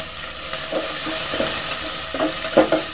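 Garlic, onion, ginger and cumin paste sizzles steadily in a hot pan while being stirred, with scraping strokes recurring every half second or so, cooking for a Bengali prawn dish.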